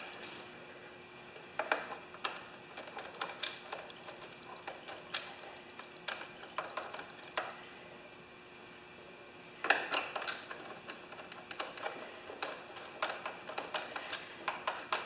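Irregular small metallic ticks and clicks come from bolts being tightened by hand on the Mikuni carburetor of a John Deere LX178 lawn tractor during a rebuild. The sound is close and quiet and bunches into a denser flurry partway through.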